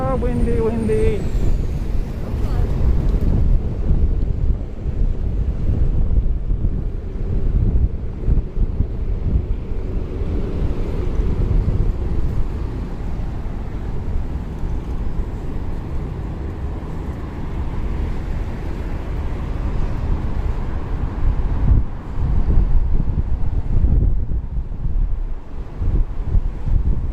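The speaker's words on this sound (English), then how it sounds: "Super windy here. Hope you can still hear me." Strong gusting wind roars into the microphone outdoors on a walk from Meguro River to Shibuya in Tokyo, a loud, steady low rumble lasting throughout with faint street sounds and occasional speech beneath it.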